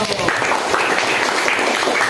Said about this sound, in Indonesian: Kalau tidak ada, tepuk tangan dulu untuk kelompok 1.